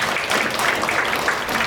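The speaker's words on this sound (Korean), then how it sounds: "자, 큰 박수 한번 주시죠." An audience at a policy forum on e-book accessibility applauds in a brief, steady burst of many hands clapping together, fairly loud and close, with no talk over it.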